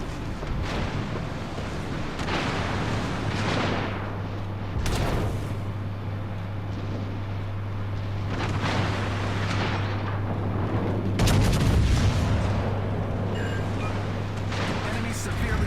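A warship's secondary guns fire in a naval combat game aboard the battleship North Carolina, giving repeated heavy booms and blasts spread across the stretch over a steady engine drone, with voice lines and talk mixed in.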